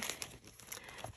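A travel sticker for a paper planner crinkles and peels close by, a short burst of crisp crackling and tearing with no voices.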